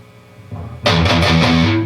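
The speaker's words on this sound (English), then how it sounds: "Back to distortion here. Bridge pickup, real short." A short, loud 80s-style electric guitar riff played on the bridge pickup bursts in after a brief quiet lead-in, chugging chords ringing out with heavy distorted overdrive.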